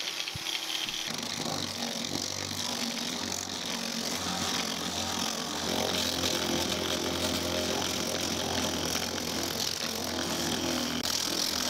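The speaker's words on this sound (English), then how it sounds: "Once the fiberglass had dried, Joel was back to the itchy task of sanding it all back." Continuous loud buzzing whir of a power sander working dried fiberglass on a dinghy, running steadily without pause from start to finish, close and alone.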